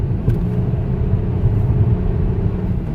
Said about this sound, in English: It has a little bit more road noise, and you can hear the tires a little bit more than the newer Audi